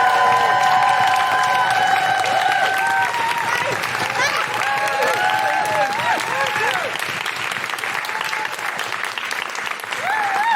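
A live podcast audience claps steadily and cheers in a loud, sustained burst of applause that carries on throughout, with whoops and shouts scattered over the dense clapping.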